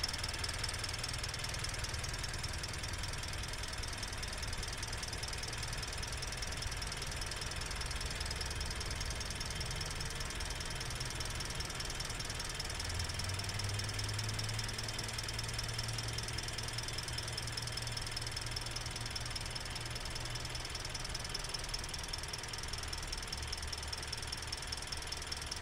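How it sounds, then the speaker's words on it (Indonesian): A 2019 Daihatsu Sigra R with manual transmission idles steadily under the open hood, a continuous even engine hum with a faint whine, heard up close with no talking. "Ini teman-teman bisa dengar sendiri untuk suara irama mesinnya."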